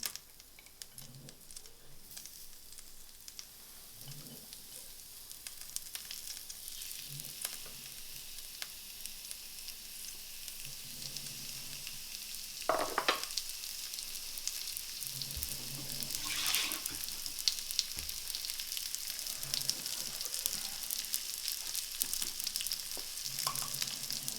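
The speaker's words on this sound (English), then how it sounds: "in the same pan with the slightly brown butter, you will put now the avocado slices that we made earlier and just really shortly grill them" Avocado slices grill in a pan of slightly browned butter with a faint, steady sizzle. Quiet clinks and scrapes come and go, and the frying grows a little louder and busier toward the end.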